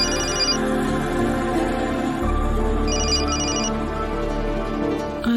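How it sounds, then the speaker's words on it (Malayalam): A telephone rings with an incoming call, its bright repeating ringtone sounding in two bursts over a steady musical background in a TV drama scene. "ഫോണിൽ ആരോ വിളിക്കുന്നല്ലോ."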